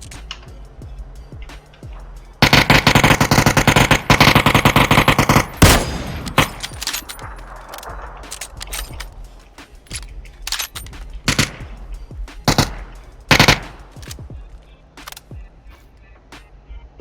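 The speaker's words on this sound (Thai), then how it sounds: "ยิงยางรถเราหรือเปล่าวะ" Loud rapid automatic gunfire in PUBG aimed at a car's tires, a long sustained burst followed by scattered single shots and another short volley, with faint vehicle noise between.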